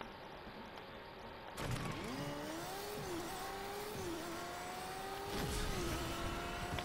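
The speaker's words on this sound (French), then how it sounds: "est-ce que je vais pouvoir tester ma moto" A motorcycle engine in the Fortnite video game revs up, its whining pitch rising and falling over a steady rumble. It sounds fairly close and plays alone, with no speech.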